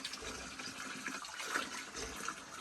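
Water flows among stones on a roadside stream near Taroudant, a steady close wash of splashing and trickling with no other clear sounds.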